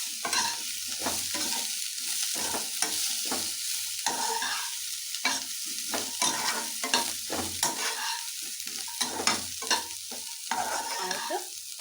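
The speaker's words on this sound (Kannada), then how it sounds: "ಹಾಗೆ ಸಣ್ಣದಾಗಿ ಕಟ್ ಮಾಡ್ಕೊಂಡಿರೋಂಥ ಕೊತ್ತಂಬರಿ ಹಾಕಿ ಫ್ರೈ ಮಾಡ್ತಾಯಿದ್ದೀನಿ." Chicken manchurian fries with finely chopped coriander, a constant sizzle broken by frequent rhythmic scraping strokes of a spatula against the pan, close and fairly loud, with nobody speaking.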